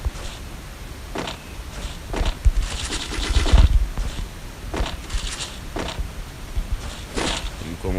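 Rapid gunfire bursts from the mobile battle game Garena Free Fire, short sharp volleys that repeat every second or so at moderate loudness, with a denser flurry midway through and someone talking faintly underneath.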